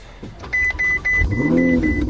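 A 2018 Ferrari 488 Spider starts up, with a whirring electric motor and a brief tone followed by a rising engine note, close and loud over about two seconds.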